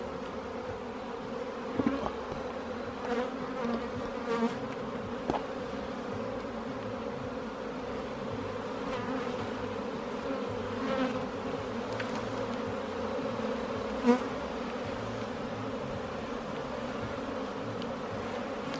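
Dense swarm of honeybees drones steadily around an open hive during a fifth-week inspection of a new colony, a continuous close buzz with individual bees passing near; no voices.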